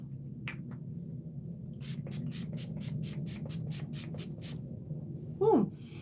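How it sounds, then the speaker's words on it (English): A small facial mist sprayer gives about ten quick, evenly spaced hissing spritzes close by, followed by a brief exhale, with soft background noise throughout. "I'm gonna use my little facial spray from O'Harrison. It's just a little mister."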